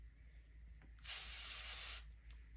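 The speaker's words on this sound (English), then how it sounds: "So very lightly we're spraying away." A single steady hiss of a spray bottle misting a wig lace for about a second, close and fairly loud, in an otherwise quiet room.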